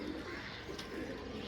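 Large pigeons from an older-generation breeding collection coo softly nearby, a steady low murmuring call lasting a moment with no talk over it.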